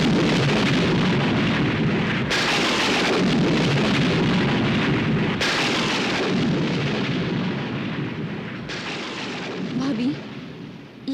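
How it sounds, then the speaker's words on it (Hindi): Dramatic thunder rumbling through a mythological TV serial scene, heralding an approaching storm; long continuous roaring rolls with several heavy surges, loud and broad, filling the whole stretch without talk. "लगता है तूफान आने वाला है।"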